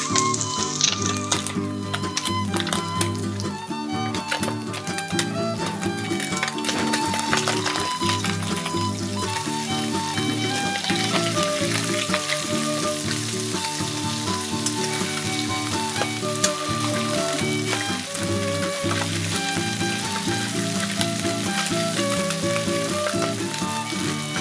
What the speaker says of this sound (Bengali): মা ভাজছে এখন মাছ